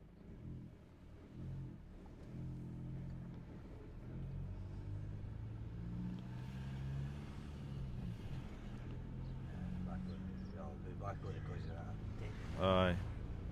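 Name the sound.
Mitsubishi Outlander 2012 driving on road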